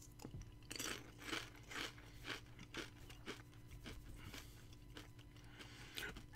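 Lay's Gyro potato chips crunch in a series of close, crisp bites followed by quieter chewing, repeating at an uneven pace.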